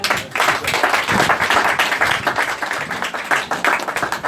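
A church congregation bursts into sustained, loud applause, many hands clapping densely and steadily throughout, with a few voices faintly mixed in.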